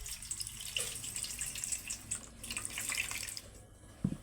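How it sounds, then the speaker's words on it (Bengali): Papaya rinsed under a running kitchen tap, a steady close splash of water with small drips and a brief knock near the end, no voices. "তো ভালো করে এখন ধুয়ে নিব।"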